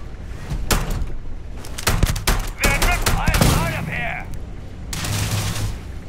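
Heavy, spaced Magnum gunshots ring out in Starfield as a handful of sharp, loud cracks with pauses between them, while voices talk during the exchange.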